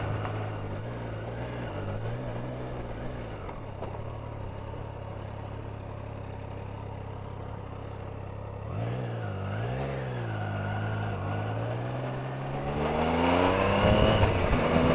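Triumph Tiger Sport 660 motorcycle being ridden, its engine droning steadily throughout with pitch dips and rises as the rider shifts and accelerates, growing louder near the end.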